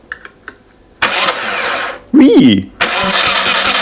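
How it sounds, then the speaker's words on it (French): A VW T3 van engine cranks after a few clicks, catches and settles into a steady loud running rumble, with a short spoken exclamation in the middle. "Je vais lui mettre une batterie au cul et voir si le moteur tourne."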